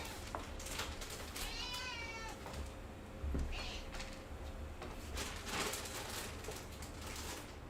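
Indoor cat meowing for treats: a couple of clear, close meows with rising and falling harmonics around two seconds in, then softer mewing later over a steady room hum and faint background noise.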